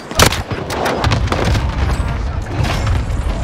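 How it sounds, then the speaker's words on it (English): Airstrike explosions on Rebirth Island in Call of Duty: Warzone: loud booming blasts hit in quick succession, then a rolling, rumbling barrage continues with scattered cracks. "Here's the target for airstrike."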